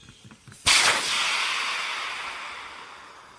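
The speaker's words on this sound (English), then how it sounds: "Once we open this valve, you're going to see just how fast this thing deflates itself." Air bursting out of the opened valve of a Coody 17.2 Familia inflatable family tent: a sudden loud hiss after a few faint clicks, then a steady rushing stream that slowly fades while it continues.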